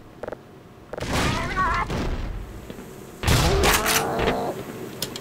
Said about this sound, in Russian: Лови, козел, граната.